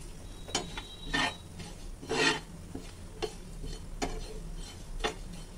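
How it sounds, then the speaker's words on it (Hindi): Cumin seeds stirred while roasting in a pan, repeated scraping strokes of a spoon against the metal with light rasping and faint sizzle, close and fairly even in rhythm, with no talking. "जीरा भी भुन चुका है, जीरे को भी निकाल लेंगे दूसरे बर्तन में"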